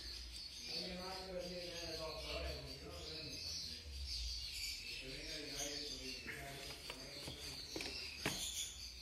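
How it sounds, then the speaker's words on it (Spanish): Single-dilution jaspe cage birds chirp and warble in repeated short trilling phrases, moderately loud over a steady background hiss, with no clear talk. "Esos son pájaros jaspe simple de ilusión."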